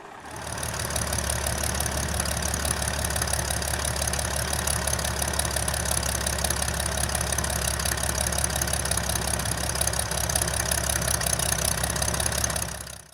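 A vintage Albatros D.Va biplane's piston engine drones at full power, loud and unbroken, with a throbbing low rumble and buzzing overtones that hold steady throughout.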